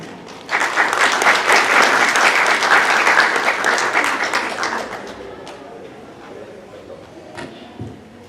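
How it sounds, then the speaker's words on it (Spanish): Loud audience applause greets the first presenter at an economics lecture, a dense burst of clapping that swells, holds for several seconds, then thins out and fades. "recibamos con un fuerte aplauso a la primera exposición"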